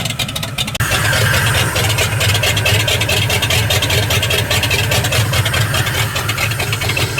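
A truck engine idles loud and close while warming up to open the thermostat, settling into a steady pulsing mechanical drone after a brief rougher start.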